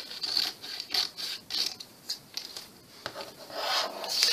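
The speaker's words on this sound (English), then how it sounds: "So let's go ahead and trim the corners." Paper being cut and scraped while the corners of a painted paper bag book cover are trimmed at an angle, close, soft rasping strokes in short irregular bursts with no talk.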